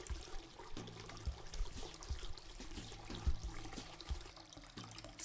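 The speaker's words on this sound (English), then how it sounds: "Rinse hands." Steady running water from a tap flows and trickles while hands are rinsed at a sink, a continuous moderate splashing with no talk.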